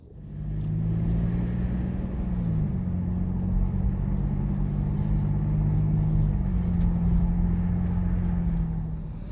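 Steady in-car road drive on the way to Black Canyon of the Gunnison in western Colorado, a continuous low engine and tire drone holding level for the whole stretch with slight pitch shifts and no talk.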